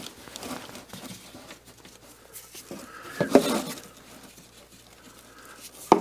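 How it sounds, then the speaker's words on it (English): A wrench works the oil drain bolt on a CFORCE 600 ATV in a quiet garage, giving faint scraping and ticking metal contacts with a couple of sharper clinks and clanks near the end. "I'll loosen that bolt now."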